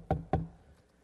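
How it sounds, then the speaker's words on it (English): Two sharp knocks on a door, close together and fairly close, each a solid thud followed by brief silence in a quiet room. "you get a knock at the door."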